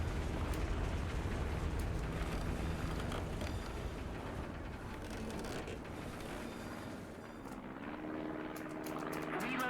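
An SBD-3 dive bomber in the War Thunder video game coming in to land, its propeller engine droning steadily and loudly throughout, easing slightly in tone toward the end.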